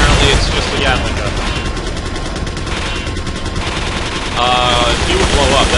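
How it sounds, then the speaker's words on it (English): A Gatling gun in Resident Evil 4 Separate Ways roars in a continuous, loud, rapid-fire stream, with brief voice fragments breaking in over the din. "Apparently it's just a Gatling gun."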